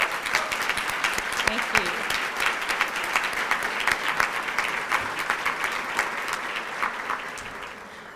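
An audience applauds the 2013 MeckEd Teachers of Excellence class at an awards ceremony, dense and loud clapping continuing throughout, with a voice briefly speaking over it.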